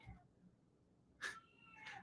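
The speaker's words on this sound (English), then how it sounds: "I especially can't please Ben, who's meowing like crazy from the other room." Cat meowing from another room, a couple of faint, distant, drawn-out meows separated by quiet.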